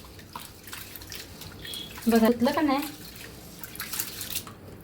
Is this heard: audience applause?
no